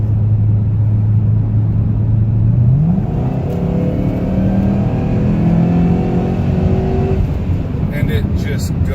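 A supercharged 2009 Cadillac CTS-V engine pulls hard from a steady cruise, its low drone sweeping upward into a rising, layered roar that holds for several seconds before easing back, heard close from inside the car.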